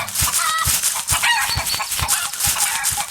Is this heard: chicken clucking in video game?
yes